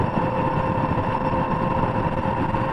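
Aniioke A8 Pro Max dual-motor ebike under throttle, a steady, loud mechanical whir and rumble with a constant tone holding evenly throughout, close to the listener with no talk.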